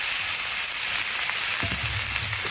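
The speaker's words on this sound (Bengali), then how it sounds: "তো এবার আমি কাটা বটবটি কুচি এবং আলু কুচিগুলো দিয়ে দিচ্ছি।" Chopped broad beans and potatoes hit a hot frying pan, setting off a loud, steady sizzle with a few low thuds as the pieces land.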